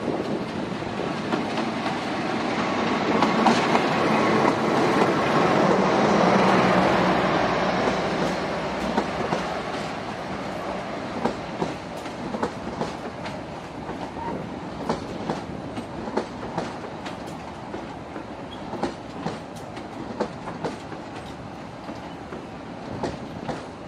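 The KA Cikuray passenger train passes through a high-altitude station. Its rumble swells and fades as the cars roll by, with a steady clickety-clack of wheels over rail joints and occasional faint squeals, and no voices.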